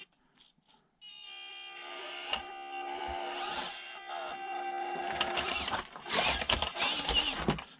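An FMS 1/18 scale Toyota FJ Cruiser RC car's electric motor whines steadily with a layered tonal hum that builds and grows busier toward the end, with small mechanical clicks at the start.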